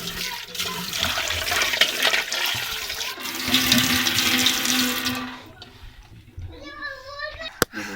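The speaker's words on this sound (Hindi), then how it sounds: "इसमें डालूंगी ठंडा पानी, जल्दी खिल जाते हैं।" Cold tap water runs and splashes over freshly boiled eggs in a pot during a winter morning kitchen routine, a steady rushing stream lasting several seconds before it cuts off, followed by a voice and a brief sharp knock.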